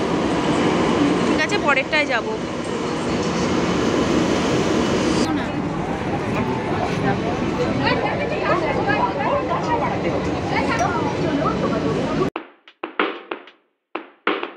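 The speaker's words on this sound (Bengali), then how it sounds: "ট্রেনটা ছেড়ে দিল।" A metro train pulls out of an underground station, a loud continuous rumble and rail roar filling the platform for about twelve seconds before cutting off abruptly, with a person speaking briefly over it.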